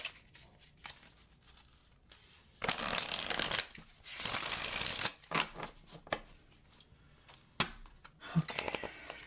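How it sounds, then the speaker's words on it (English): Tarot cards are shuffled in quiet bursts of riffling and sliding, close to the mic, with pauses between and soft speech in the background. "Let me shuffle these cards a little bit more."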